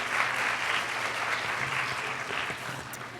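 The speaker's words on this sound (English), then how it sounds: "round of applause for them." Audience applause at a spoken-word storytelling show, a loud, steady crowd of clapping hands that fills the whole stretch without pause.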